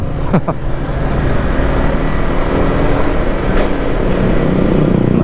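A smoky truck drives along a road in a steady, loud engine rumble with continuous road noise, heard up close from start to finish, with a couple of faint higher squeaks early on.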